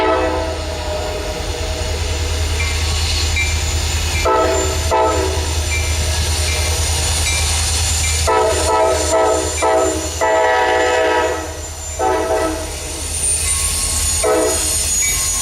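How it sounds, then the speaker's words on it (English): A pair of Norfolk Southern SD40E helper locomotives climbs westbound up a hill, producing a loud, continuous diesel rumble with sustained horn-like tones rising in bursts over the steady roar. "We first see a pair of helper locomotives as they head westbound up the hill."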